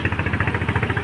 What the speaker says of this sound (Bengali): নৌকা যাচ্ছে একটা